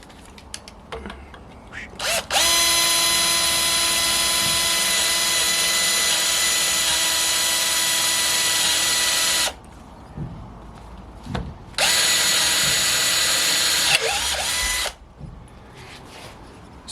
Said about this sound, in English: you still need to go through your wood, yeah, so I'm going to drill through there